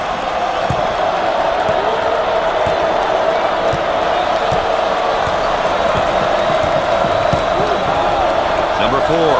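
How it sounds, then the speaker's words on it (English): A home crowd at a college basketball game keeps up a loud, dense roar and rhythmic chanting, with sneakers squeaking and a ball bouncing on the hardwood underneath. "The crowd begins to chant."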